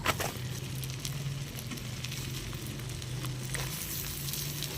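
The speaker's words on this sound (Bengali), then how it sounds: "এটা সামান্য নাড়িয়ে চাড়িয়ে আমি এর মধ্যে পেঁয়াজ কুচি আর টমেটো কুচি দিয়ে দেব" Chopped onion and tomato fry in a pan for butter chicken, a steady soft sizzle with light crackle throughout and a faint stirring scrape at the start, with no talking.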